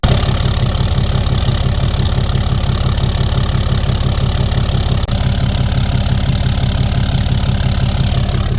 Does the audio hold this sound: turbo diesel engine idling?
yes